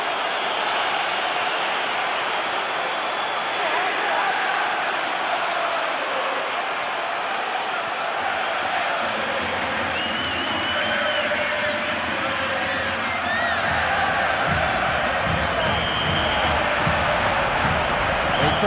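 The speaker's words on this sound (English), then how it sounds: "Crowd in celebratory mood." Stadium crowd in a UEFA Champions League 2006-2007 football video game on Xbox 360, roaring in celebration after a goal. A dense, sustained cheer continues throughout, swelling slightly in the second half, with no clear speech.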